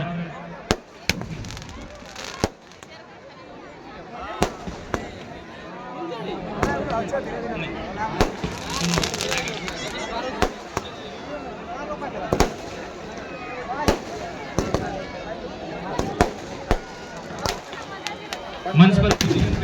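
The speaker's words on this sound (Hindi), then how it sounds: "आतिशबाजी का दौर शुरू भी हो चुका है" Fireworks crack and pop repeatedly at irregular intervals over a busy crowd murmur and talking at a Ravan Dahan festival in Saraikela, some bursts sharp and close.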